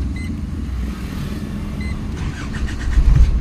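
Foton vehicle being restarted during an aircon switch repair, with an idling low engine rumble, a couple of soft electronic beeps, then a louder cranking thump near the end, heard close up.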